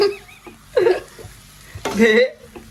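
Cold food hits a hot pan in a home kitchen, giving short bursts of sizzling and stirring with voices talking over and between them.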